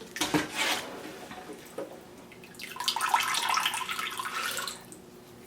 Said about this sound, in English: You can see this is still dripping when I put it into the colander